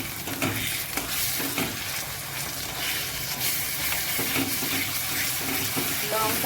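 Ginger garlic paste sizzles in a pan with onions and green chilli while being stirred, a steady bright frying hiss broken by scraping stirs close up, with no talk.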